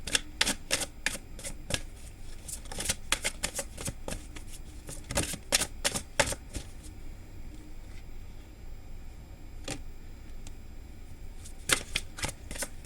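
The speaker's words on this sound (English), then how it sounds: "Let me pull you guys one of these cards." Tarot cards are shuffled close by in quick riffling bursts and sharp snaps, with a pause before a few final flicks as cards are drawn.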